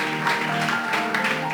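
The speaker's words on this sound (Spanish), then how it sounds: "Denle un aplauso a Dios." A church congregation at a Sunday school service claps together, a short, moderately loud burst of applause with a steady wash of hands throughout.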